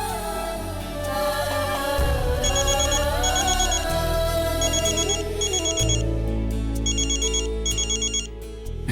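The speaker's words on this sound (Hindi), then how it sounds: "मिसेस दीक्षित का फोन आ रहा है, हमें जाना चाहिए।" A telephone ringtone chimes in a Hindi TV drama scene, a bright electronic phrase repeating in regular bursts over a low musical backing that shifts underneath, fairly loud and with no voices.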